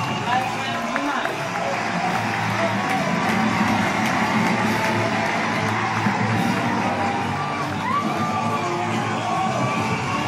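An award-ceremony audience claps and cheers for the winner, a steady wash of applause with scattered whoops and shouts throughout, fairly distant, with a voice speaking over it.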